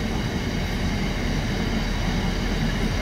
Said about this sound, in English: We love seeing freight trains